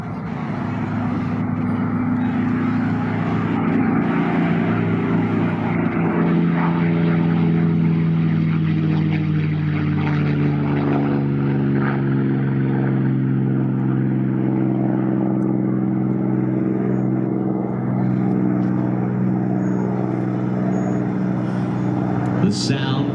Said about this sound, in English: The sound there of that North American P-51 model.